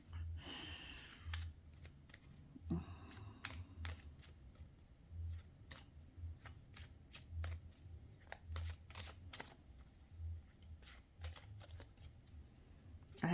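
Tarot cards are shuffled and drawn for a reading, with repeated crisp slaps and riffles in a loose rhythm over a soft low hum; close and fairly quiet, no talk.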